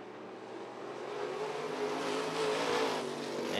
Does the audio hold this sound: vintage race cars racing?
yes